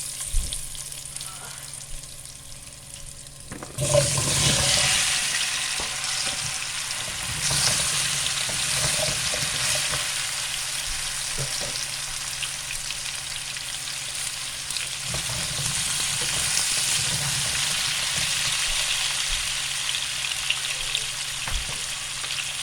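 Taro pieces dropped into hot oil with garlic, turmeric and five-spice seeds in a pan give a sudden loud burst of sizzling, which settles into a steady, close frying hiss with occasional stirring clinks.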